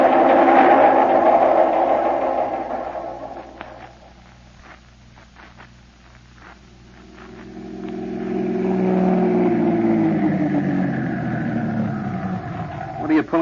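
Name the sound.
car pulling up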